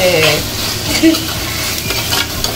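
Pepper mutton curry with ground black pepper sautés in a pan, a close, loud sizzle with a spoon scraping and stirring through it and a faint voice nearby.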